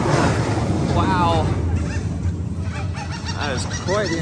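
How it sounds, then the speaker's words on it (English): Geese honk at a theme park, loud and close, in several harsh calls over steady outdoor background noise. "these birds are extra pissy today because there's nobody here eating"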